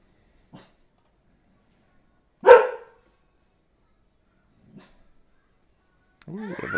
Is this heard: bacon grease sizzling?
no